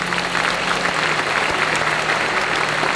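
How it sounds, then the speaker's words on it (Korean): Audience applause at a pastors' ordination ceremony, steady and dense clapping from a large hall crowd that carries evenly through the whole stretch without a break. "큰 박수 부탁합니다"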